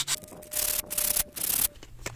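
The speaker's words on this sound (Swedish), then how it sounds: "Vi slipade helt enkelt ner ytterkanten på belägget lite för att förbättra anläggningsytan mot skivan." The outer edge of a Saab handbrake pad is sanded down by hand in rhythmic back-and-forth strokes, several close, gritty rasping bursts separated by short pauses.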